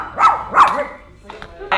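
Dogs at a dog cafe give two sharp, fairly close barks in quick succession, followed by softer yips and a brief whimpering sound.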